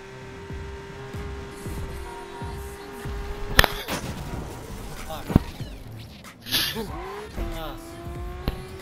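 A Lamborghini Aventador races in Need for Speed Unbound, its engine note holding and shifting, with sharp squeals and skids. Someone talks excitedly over the game sound.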